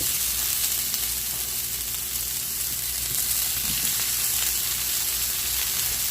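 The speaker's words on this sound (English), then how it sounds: "I'm going to scoot these over, and I'm going to add the asparagus." Asparagus frying in a pan beside partly cooked sweet potatoes, a steady bright sizzle and crackle that runs continuously throughout without talk.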